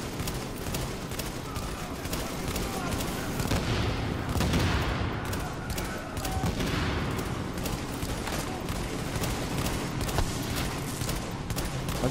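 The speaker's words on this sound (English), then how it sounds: "I'm just trying to fucking launch bullets into him at the moment" Video-game gunfire rattles in rapid, continuous volleys for the whole stretch, with dense bursts and booms that sound moderately distant, while a player's voice is faintly audible at times.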